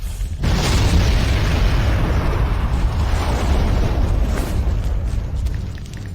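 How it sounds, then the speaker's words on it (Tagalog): Explosions tear through a multi-storey building, a loud, sustained roaring blast with heavy low rumble that begins abruptly and carries on for several seconds with no pause. "Magulo rito dahil sa mga pagsabog, hindi ako makalabas."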